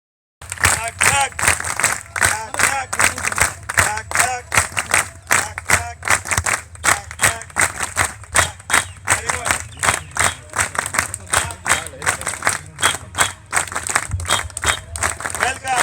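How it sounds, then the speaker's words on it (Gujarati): Loud, rhythmic clapping from a crowd welcomes the chief guest at a senior citizens' sports event in Nadiad, Gujarat, sustained beat after beat with an echoing, energetic pulse and voices mixed in. "આપણે જોરદાર તાળીઓથી સ્વાગત કરી રહ્યા છીએ."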